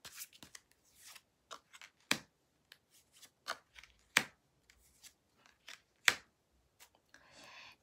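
Tarot cards are drawn and handled from a deck in quiet short bursts of crisp card snaps and slides, sparse and close, with silence between and no talking.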